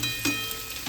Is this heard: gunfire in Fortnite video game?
no